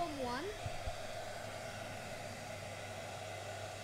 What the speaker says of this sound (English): Now, if you get your hairdryer out, yeah, go for it.